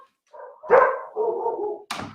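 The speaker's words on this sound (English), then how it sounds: "Now we can just hear them barking, muffled." Dogs barking, muffled as if behind a door or wall: a few short barks and a drawn-out yowl in quick succession, fairly faint, with no talk over them.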